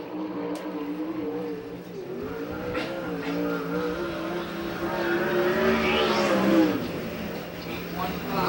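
USAC/CRA sprint cars roar around the Perris dirt oval during the first lap of the Firecracker 40, engines droning and rising in pitch steadily throughout, with an announcer talking over the racing.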